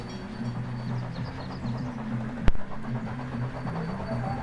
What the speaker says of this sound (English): the train enters.